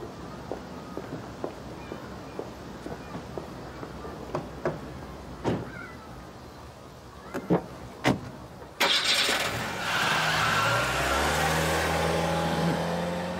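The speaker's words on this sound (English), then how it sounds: "Look how she drove off." Car door clunks and footsteps, then the engine starts and the car pulls away fast with a loud, sustained acceleration roar.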